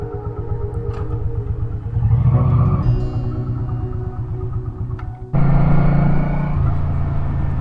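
A motorcycle pulls away and rides on after refuelling, its engine rumbling steadily up close, then rising sharply in pitch and loudness as it accelerates.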